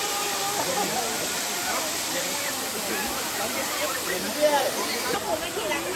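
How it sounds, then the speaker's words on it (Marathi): Water rushes down a level of the seven-tiered Erawan Waterfall in Thailand as a constant broad hiss, with a voice faintly audible over the roar. "तर बेसिकली 7 लेवलचा वॉटरफॉल आहे"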